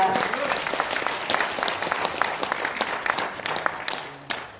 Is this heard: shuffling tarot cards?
no